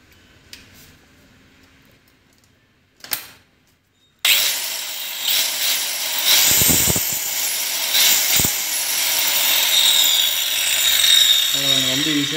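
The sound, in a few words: Stanley STSP125 marble tile cutter running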